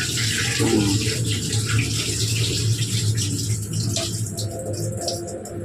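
Basmati rice is washed in running water for a chicken biryani, giving a continuous close splashing and gushing sound with light rattles.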